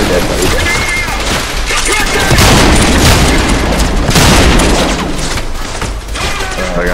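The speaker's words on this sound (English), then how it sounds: "I gotta throw more grenades." Grenade explosions in the first-person shooter Trepang2, loud booming blasts with crashing debris and scattered gunfire, several heavy bursts across the stretch, with voices talking in the mix.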